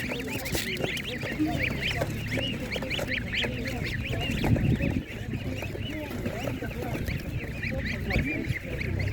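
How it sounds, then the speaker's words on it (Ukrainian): Goslings and other poultry call continuously at a Ukrainian market, a busy overlapping chorus of honks and peeps, near and steady throughout with faint talk mixed in. "Є ще гуска."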